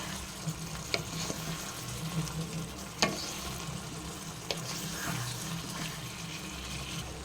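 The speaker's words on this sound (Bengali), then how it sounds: "এবারে চিংড়ি মাছটা দিয়ে ভালো করে মিক্স করে নেব" Prawns are stirred and fried in a pan for a potato-and-prawn dish. A quiet, steady sizzle runs throughout, broken by a few sharp clicks of the spoon against the pan.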